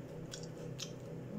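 Soft bites and chewing of air-fried apple fritters, crisp outside and soft inside, two faint crunchy bites over a quiet, close background.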